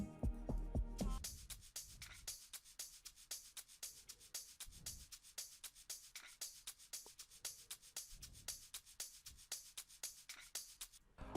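A second looped shaker from a beat remake, entering after a short sustained chord and then ticking in a fast, even pattern with soft low swells underneath, close and alone with no voices.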